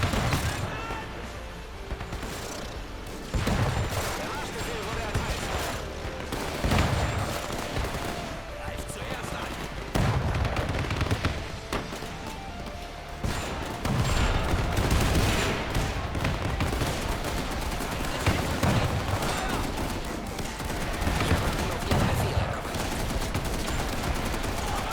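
Counter-battery artillery fire in a real-time strategy game: repeated heavy blasts and gunfire bursts at irregular intervals across a long stretch of battle noise, moderately loud.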